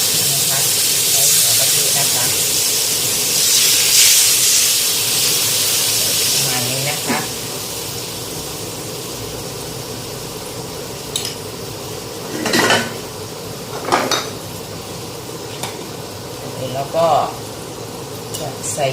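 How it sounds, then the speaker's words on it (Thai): Coconut milk and green curry paste stir-frying in a pan for Thai green curry with pork and eggplant, a loud steady hiss that fades into softer sizzling, with intermittent clanks of a utensil against the pan. "เราก็จะเอากะทิลงไปผัด ผัดเครื่องแกงนะคะ"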